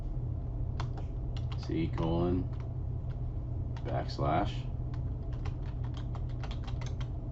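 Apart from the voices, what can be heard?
typing a command on a computer keyboard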